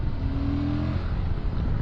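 A Suzuki DL 1050 V-Strom motorcycle engine revs with a steady, loud, deep drone. A rising tone is heard early on, and the sound stays continuous with no speech over it.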